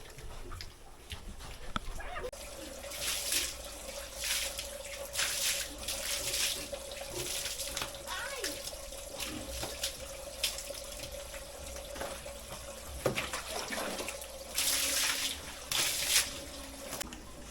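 Pigs in a pen are showered with a water spray, which comes in repeated hissing bursts at moderate loudness with short pauses between sprays and no speech.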